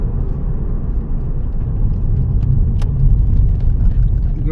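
A Porsche Boxster 986 on a road test after an IMS bearing replacement. The engine gives a steady low rumble with road noise that builds slightly from inside the moving car, and a voice speaks faintly.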